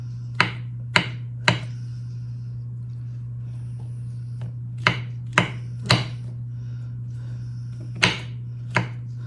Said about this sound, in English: I'm just like kind of dicing them up a little smaller